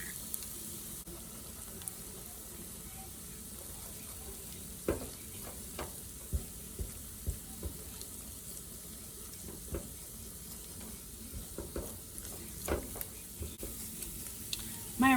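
Eggs cracked straight into a pan of leftover rice for breakfast fried rice, stirred with scattered scraping taps over a faint sizzle, with no talking.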